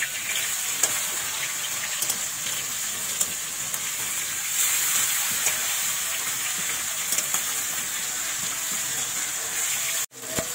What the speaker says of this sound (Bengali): মাছ আমরা বেশি ভাজবো না